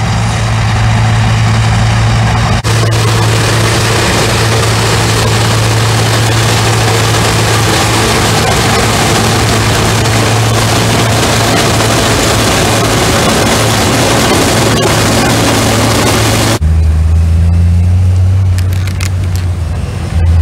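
A haul-out trailer unloads in a paddock with its engine running, a loud steady heavy-engine roar with mechanical clatter that shifts in pitch near the end, and no one talking.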